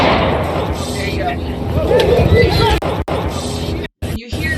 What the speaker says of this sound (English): You hear the pepper spray, and then the gunshot.